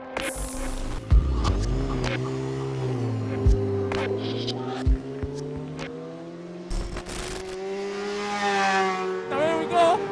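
A MotoGP motorcycle accelerates hard through the gears at the Argentina circuit, its engine note climbing and dropping in sweeping pitch steps between shifts, with sharp clicks and bumps punctuating a continuous onboard roar.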